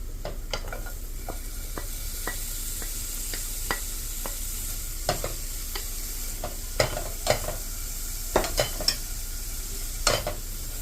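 Vegetables stir-frying in a hot pan with garlic and chili for Thai basil fried rice: a steady low sizzle broken by sharp, irregular clicks and scrapes of a utensil against the pan, growing busier toward the end.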